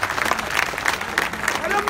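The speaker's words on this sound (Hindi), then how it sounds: "तालियां बजाकर स्वागत करो इन सबों का" A crowd at a Samajwadi Party rally claps continuously to welcome arriving party members, dense and loud, with voices mixed in.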